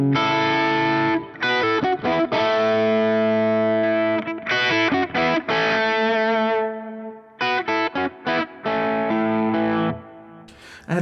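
Clean-toned electric guitar with a split-coil pickup setting plays chords and single notes with short gaps between phrases, bright and thin-sounding, with no voices over it.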